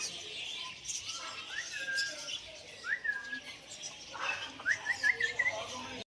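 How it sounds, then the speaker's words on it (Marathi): Close by, a white parrot gives several short rising chirps and squeaks, the calls getting quicker and clustered near the end, with faint background noise and murmuring behind them. "हा बघा व्हाईट पोपट."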